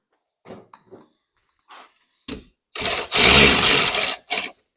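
A power driver drives T25 screws into the plastic of a Polaris RZR 900/1000 Trail 2021+ enclosure, heard as a few short faint taps followed by loud, close whirring bursts of the driver that then stop.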